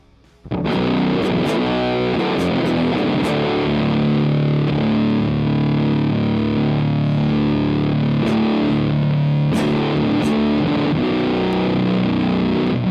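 Electric guitar through an amp-sim plugin drenched in heavy fuzz distortion, loud and sustained, strummed chords ringing out with a thick saturated buzz and no voices.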